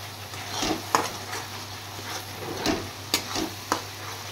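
Onion paste frying in a pan for a Bengali fish dish, with a steady soft sizzle under intermittent scraping stirs and a few sharp utensil taps against the pan.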